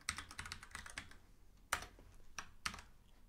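A computer keyboard is typed on in quick, close, crisp key presses, with a few sharper isolated strikes after them, including a press on the numeric keypad. The setting is quiet and no one speaks.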